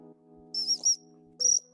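Dog training whistle blown weakly outdoors during a hunting and retrieving session with a young cocker spaniel, giving three short thin shrill peeps, two close together then one after a pause, over a quiet low hum.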